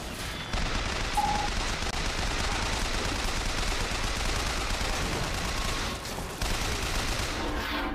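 Gunfire from the video game Bioshock Infinite plays as a dense, sustained fusillade of rapid shots and bursts, loud and continuous with a brief dip near the end, no talk.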